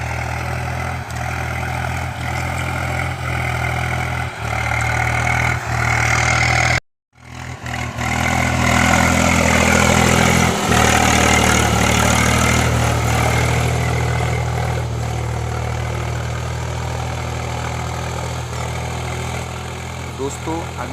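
A Swaraj tractor pulling a cultivator through a field near Bareilly runs with a steady, loud low diesel drone, briefly cutting out for a moment before resuming and holding an even rumble.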